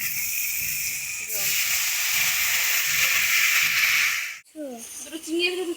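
Broth poured into a hot pan of fried vegetables, bursting into a loud rushing hiss and steam that holds steady, then cuts off abruptly, with voices talking around it.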